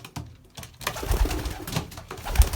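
Belgian racing pigeons coo in low, throaty bursts, with several calls overlapping close by amid some rustling.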